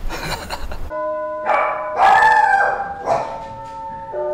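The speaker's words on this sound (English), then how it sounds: "This time, both dogs immediately sound the alarm." Dogs bark and howl in several sharp bursts against a background tone, fairly close and loud.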